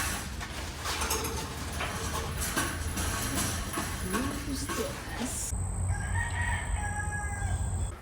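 Roosters crowing in a busy outdoor setting near a truck engine swap, several drawn-out calls running through steady background noise with other birds and clucks mixed in.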